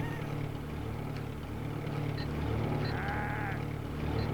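A few short sheep bleats from a PlayStation video game ring out over a steady low engine-like hum, with brief higher calls scattered through.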